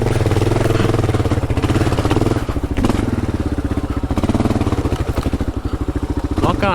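The engine of a Kawasaki KLR motorcycle runs loud and close with a steady, throbbing idle thump that rises and falls slightly throughout.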